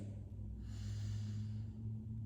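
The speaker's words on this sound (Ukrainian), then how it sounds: "робимо на 1, 2, 3 глибокий вдих через ніс" A single deep inhalation drawn in through the nose during a breathing exercise, a soft steady rush of air lasting about two seconds, close and quiet over a low hum.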